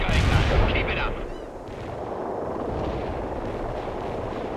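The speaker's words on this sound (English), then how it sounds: "Bombs you requested earlier. Stay clear." A requested bomb strike erupts in the video game World in Conflict: a loud, close blast opens the clip, then a dense, rumbling roar of explosions rolls on without a break.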